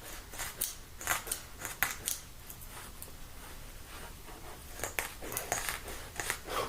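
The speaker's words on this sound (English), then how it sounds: "These crunchy scissors." Scissors cutting material in a workshop, a series of crisp, crunchy snips in quick irregular bursts, close and fairly quiet, with brief pauses between cuts.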